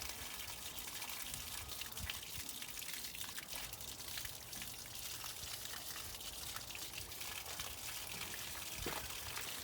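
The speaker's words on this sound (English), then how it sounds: "Get rid of the rusty water." Rusty water drains from the radiator of a Frandee Sno Shu Model E snowcat under restoration. A steady splashing pour runs continuously with scattered drips and small gushes, moderately close and alone.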